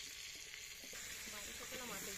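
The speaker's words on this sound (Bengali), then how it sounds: "তেলের ভিতরে একটু হলুদ গুঁড়ো দিয়ে দিলাম" Turmeric powder sizzling in hot oil in a clay pot, a loud, dense hiss and crackle close by, growing busier partway through as it is stirred.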